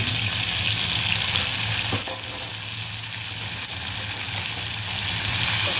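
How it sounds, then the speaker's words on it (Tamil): Tomatoes frying in oil in a pan, a steady broad sizzle that holds evenly throughout with a slight dip midway, close and alone with no voices. "அதிலே கொஞ்சம் எண்ணெய் விட்டு தக்காளி போட்டுக்கோங்க"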